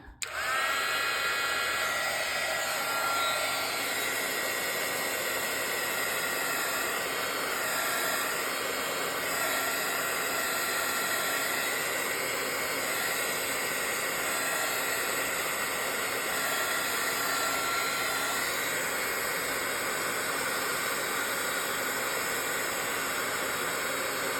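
A heat tool blows steadily on embossing powder spread over tracing paper, producing a loud, continuous whooshing hiss with a motor whine that holds unbroken for the whole stretch, with no voices.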